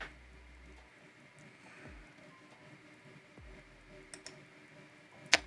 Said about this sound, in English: click inside here, hit the return key, maybe more than once, and click on table